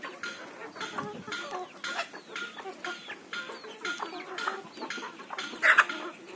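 Free-range country chickens cluck repeatedly in a rhythmic, moderately close chorus outdoors, with one louder squawk near the end and no talking.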